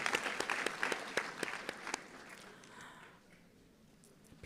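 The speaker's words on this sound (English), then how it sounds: "Let's give them a round of applause for their hard work in making this commencement" Commencement audience claps for the ceremony organizers, distinct hand claps heard from a distance that thin out and fade to near silence by the halfway point.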